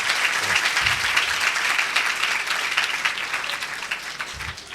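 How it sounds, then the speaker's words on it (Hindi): Loud, sustained audience clapping during a sermon gathering, a continuous crowd of hands that eases slightly toward the end. "और जोर से ताली बजाएं।"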